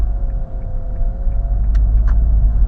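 Steady low engine and road rumble from a Nissan Magnite with turbo petrol engine and CVT gearbox while driving, a faint whine running through it and a couple of small clicks near the end.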